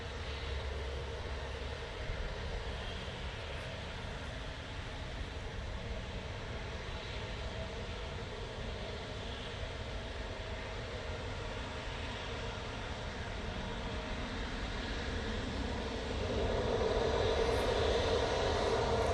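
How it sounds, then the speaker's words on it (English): A jet lands at Manchester Airport while another Helvetic jet waits to spool up. A steady, distant aircraft engine roar fills the scene and grows slightly louder near the end, with no voices. "I'm guessing as soon as this one touches down, the Helvetic will spool up."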